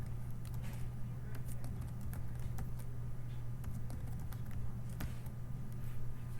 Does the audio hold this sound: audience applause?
no